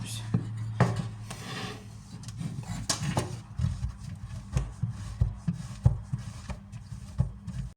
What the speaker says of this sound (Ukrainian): Так, тепер беремо твердий сир. Я буду натирати на оцю